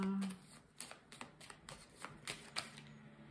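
Belline oracle cards are shuffled by hand, a quick series of soft, close riffling flicks in an uneven rhythm, with a brief bit of talk just before.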